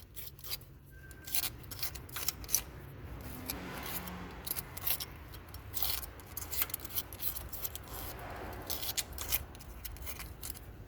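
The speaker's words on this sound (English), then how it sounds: "take the razor blade and gently scrape around the hole" A razor blade scrapes gently around a hole during starter motor work on a BMW 3 Series, giving faint, close, irregular rasping strokes repeated over several seconds in a quiet space.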